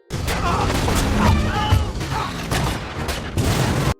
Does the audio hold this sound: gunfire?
yes